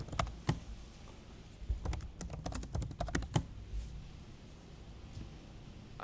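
Fingers tap on a computer keyboard in scattered clusters of sharp clicks, then the typing stops, leaving a quiet room.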